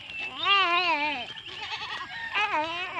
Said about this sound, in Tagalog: Daming kambing dito guys, oh.